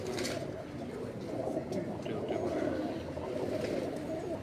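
Pigeons coo softly and continuously on a rooftop in Sialkot, a low, rolling murmur of several birds close by with faint background noise and no talking.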